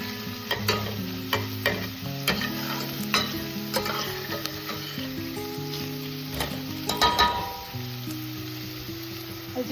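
Onions sizzle over a medium flame while a utensil stirs and scrapes the pan in a repeated, uneven rhythm. The sound is close and continuous, with no voices.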